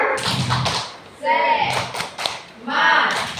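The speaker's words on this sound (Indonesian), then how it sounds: "Tepuk semangat." An Indonesian adult group session performs a rhythmic clapping cheer, with bursts of sharp claps alternating with chanted voices in a patterned beat, fairly close and moderately loud.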